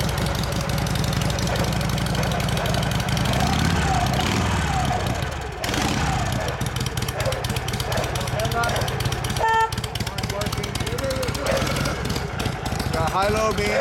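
A 1984 Harley-Davidson FXWG Wide Glide V-twin idles loud and close after a cold start, with a lumpy, uneven rhythm that shifts partway through as the engine begins to warm.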